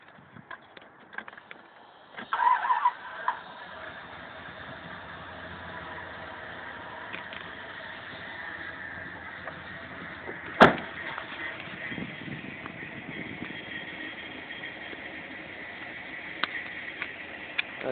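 1993 Dodge Dakota with a 5.2L Magnum V8 starting and then idling steadily, a quiet even engine hum with a few faint clicks and a sharp knock partway through.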